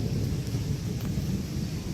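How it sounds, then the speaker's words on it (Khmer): Steady rainfall since early morning at a temple during Visakha Bucha preparations, a dense continuous wash of rain with low rumbling, heard alone at moderate distance without any voices. "ប៉ុន្តែភ្លៀងញាតិញោមអើយភ្លៀងតាំងពីព្រលឹមមកនោះ"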